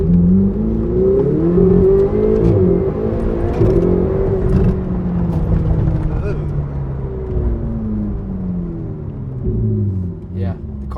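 A Ferrari 488 engine drones loud and close, revving up and easing through gears in a continuous rumbling roar after spark plug replacement.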